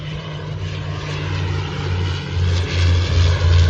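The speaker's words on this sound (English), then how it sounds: "That's a big airplane" A small airplane landing at an airport beside a golf course, its propeller engine a steady broadband drone with a low throbbing hum that grows slightly louder toward the end, heard from outdoors at moderate distance.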